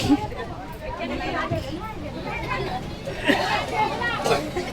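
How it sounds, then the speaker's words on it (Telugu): Packed bus climbing a hill road to a temple, full of standing passengers, a steady babble of overlapping voices close around with occasional louder bursts of speech. "బస్సులో ఫుల్ జనాలు ఉన్నారు నిల్చున్నాం"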